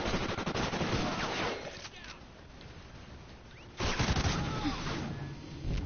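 Bursts of gunfire in Call of Duty: Ghosts, loud dense volleys at the start and again near the end with a quieter stretch between, a voice faintly present underneath.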